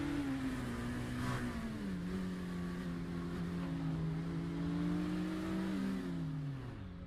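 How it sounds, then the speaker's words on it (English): A race car engine in the iRacing video game at Spa-Francorchamps drones at steady revs, the pitch wavering and dipping as the car slows near the end. The tone is moderately loud and continuous. "I wonder if that car had been coughing."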